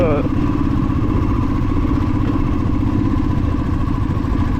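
A motorcycle rides a hill road near Lambasingi, its engine a loud, close, steady drone with clattering mechanical texture that holds evenly through the short stretch.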